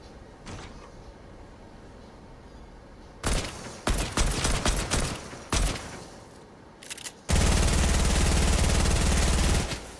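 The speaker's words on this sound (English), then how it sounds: "Now let's just see how he reacts to a gunfire in general." Gunfire in the video game Fortnite, starting with quiet background hum, then several loud bursts of rapid shots and a long sustained stretch of continuous firing toward the end.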